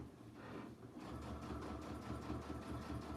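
A sewing machine top stitches across a zippy clutch, a steady low mechanical whir with a rapid needle rhythm running continuously and close.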